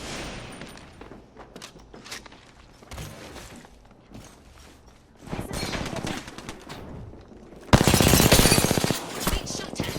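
Apex Legends video game combat with scattered gunshots and mechanical clatter, building into loud, dense bursts of automatic fire near the end.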